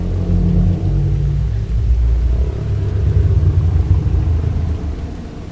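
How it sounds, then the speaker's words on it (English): Steady low rumbling with a heavy wash of rain noise, like distant thunder rolling over a downpour in a small Maine town at night; continuous and fairly loud throughout, with no voices. "The rain fell in a steady, mournful rhythm"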